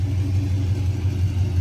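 A Chevrolet Camaro SS with an exhaust cutout installed idles steadily, a deep, even low rumble holding close and loud throughout.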